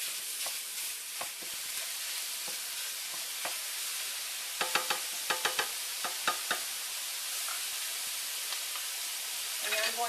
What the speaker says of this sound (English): I'm going to put my ground beef in my skillet and start breaking it up.